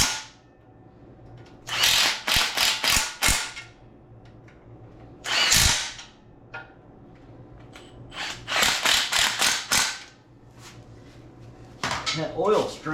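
Ratchet snugging down bolts on a junkyard 5.3 LS engine swapped into a 1953 Chevy 3100 truck, loud close bursts of rapid clicking in several runs separated by brief quiet gaps.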